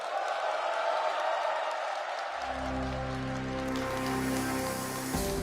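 Big welcoming applause breaks out from a large crowd of overseas Koreans in China greeting the South Korean president and his wife. The clapping is loud and continuous, joined by a deep sustained horn or music partway through.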